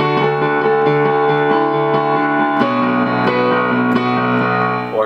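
Simple left-hand piano accompaniment, steady repeated low chords and bass notes ringing together, close and full, shifting once to a new chord partway through.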